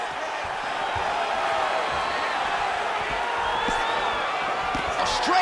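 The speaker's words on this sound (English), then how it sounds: "you hear the crowd react every time they come together" Dense arena crowd noise from a combat-sports fight rises in a steady roar, with scattered shouts and whoops reacting to strikes, loud throughout and tightening near the end.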